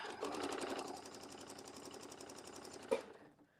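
A sewing machine stitching forward and then reversing while quilting a holiday wreath, a steady rapid mechanical chatter running for about three seconds before a brief clunk and stop, close but fairly quiet.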